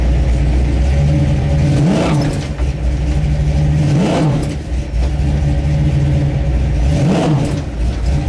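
A 1969 Camaro drag car engine at an ET bracket race at PIR, loud and close, with a constant rumbling idle and three sharp revs rising and falling at regular intervals.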